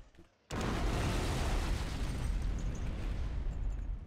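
A sudden loud explosion in the video game Operation Flashpoint bursts in after a quiet moment, then a sustained roaring rumble fills the rest, dense and heavy.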